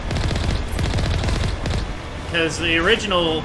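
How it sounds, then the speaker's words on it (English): Rapid weapon fire from the Mako vehicle's cannon and Gatling machine gun in Mass Effect, a dense loud fusillade of repeated shots with a voice speaking over the later part. "They definitely improved the Mako's weapons."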